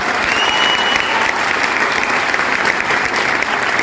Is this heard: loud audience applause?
yes